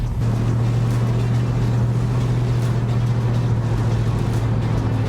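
A 1979 Pontiac Trans Am rolls down the road, its engine a loud steady low drone with a constant hum and road and wind noise, close and unbroken.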